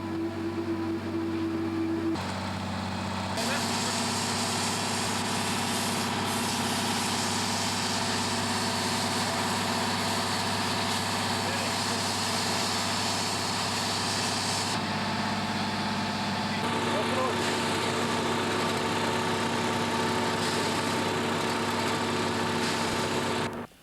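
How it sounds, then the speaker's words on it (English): A Unimog firefighting truck carrying 900 gallons of water idles in a forest, a steady, close diesel rumble with a few shifts in pitch and tone along the way. "including the use of our main firefighting machine, the Unimog."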